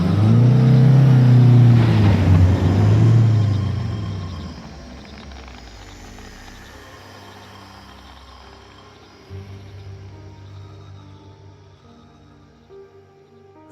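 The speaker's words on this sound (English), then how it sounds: "I started the car and reversed out of there as quick as I could." A car engine starts and revs hard as the vehicle reverses away quickly, loud at first and then fading into a quieter idle, with crickets chirping in the night air behind it.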